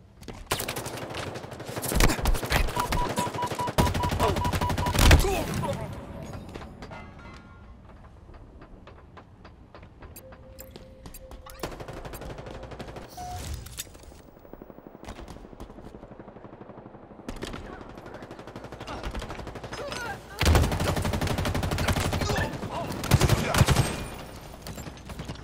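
Halo Infinite Team Deathmatch firefight with bursts of rapid automatic gunfire and sharp single shots, loud clusters at the start and end separated by a quieter stretch of distant shooting and game noise.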